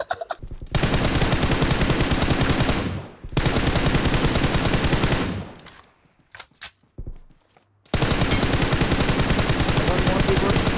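Rapid automatic gunfire in the battle royale video game PUBG, with long sustained bursts broken by short pauses. It is loud and continuous and sits over faint talk from a player.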